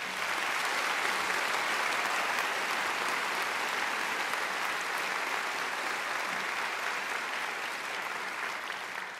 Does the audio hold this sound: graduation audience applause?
yes